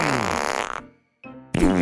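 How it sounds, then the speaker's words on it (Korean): Cartoon fart sound effect in a children's folk tale, two loud, buzzy, rippling blasts split by a brief silence and a tiny high pop, close and clear with no talking. "마지막으로 힘껏 방귀를 뀌었어요"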